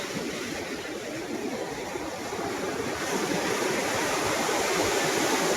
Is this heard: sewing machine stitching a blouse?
no